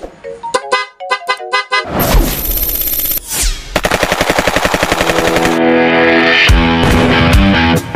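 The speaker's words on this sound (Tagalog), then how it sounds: "Busina po natin." A PIAA car horn blares loudly in short repeated honks, then gives way to long, harsh, sustained blasts that run almost without a break.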